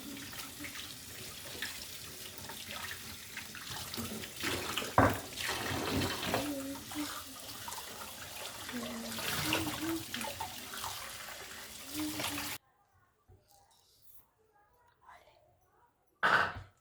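Steady running water from a tap splashes over a small stone mortar being scrubbed and rinsed, continuous for about twelve seconds, then cuts off abruptly, leaving near silence.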